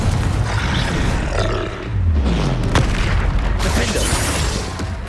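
A Confringo fire spell in Hogwarts Legacy bursts into a loud, deep boom, followed by heavy roaring rumble and crackle that fills the whole moment, with a second impact hitting partway through.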